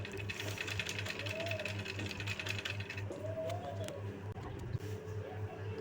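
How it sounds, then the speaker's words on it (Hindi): Sewing machine running a line of stitching along a neckline strip on a garment, a steady rapid mechanical chatter with rhythmic pulsing throughout, close and continuous with no pauses. "ऊपर से एक सिलाई और चलानी है।"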